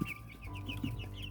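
Four-week-old baby chicks chirp in a quick series of soft peeps, with a few low clucks mixed in, close by and fairly quiet.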